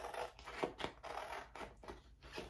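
Scissors cut through an adhesive mesh stencil, a faint, close series of about six crisp snipping crunches in uneven rhythm, with no talking.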